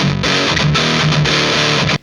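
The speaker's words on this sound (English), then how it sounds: "So here it is, HM-2 custom mode." Electric guitar played through a Boss HM-2 distortion pedal in custom mode, with extra mids, gain and level, giving a thick, saturated, sustained chord riff that rings loud and continuous for about two seconds before cutting off.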